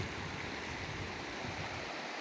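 Bamiyan river running low after the high-water season, a steady broadband rush of flowing water, continuous and fairly faint, with no voices.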